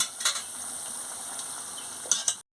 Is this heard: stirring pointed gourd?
yes